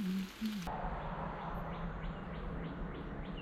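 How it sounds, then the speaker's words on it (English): Birds chirp in a morning garden, their faint, repeated short calls rising over a steady soft background hush with no talking. "I genuinely can't think of a better way to spend a morning than listening to the birds chirp."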